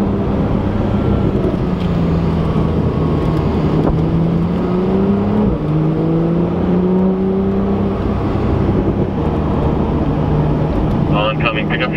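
A Porsche 911 Carrera S driving, its engine a loud steady drone with shifting pitch from gear changes, heard from inside the cabin beneath a person talking.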